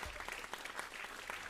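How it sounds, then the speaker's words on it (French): A conference audience applauds steadily, a dense patter of many hands clapping at moderate distance, brief and fairly quiet. "Merci de l'applaudir, s'il vous plaît."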